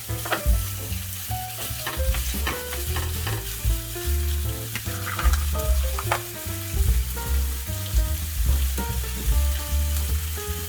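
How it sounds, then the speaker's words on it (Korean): Thawed strips of pork belly grill in a pan with a loud, crackling sizzle, punctuated by frequent pops and clinks of stirring, under a low background hum. "해동한 삼겹살 구줄를 구워줄게요."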